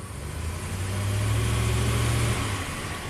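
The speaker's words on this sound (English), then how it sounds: "if I rev it up a little bit" A Ram with a HEMI V8 engine showing a P0016 fault and low power is revved briefly, a steady close engine rise that holds for a couple of seconds and then eases back toward idle.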